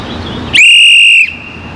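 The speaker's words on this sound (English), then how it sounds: "I'm just gonna blow the whistle." A whistle blown during a senior design project test gives one loud, piercing, steady shrill blast of about two-thirds of a second over a low background hum.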